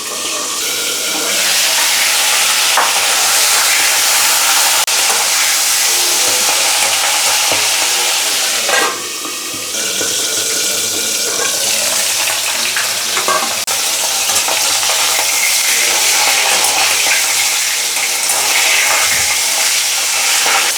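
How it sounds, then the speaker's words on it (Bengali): Hilsa fish head frying in hot oil, a loud, dense, continuous sizzle close up, with occasional stirring and clatter from the pan. "তেলটা গরম হয়ে গেছে, এবার মাছের মাথাটা ছেড়ে দিলাম।"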